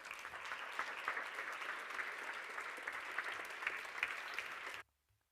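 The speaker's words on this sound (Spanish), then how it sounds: "Un fuerte aplauso, por favor." A seated audience at a public meeting with health researchers gives a steady, fairly distant round of applause, a dense wash of clapping that holds evenly for nearly five seconds before cutting off.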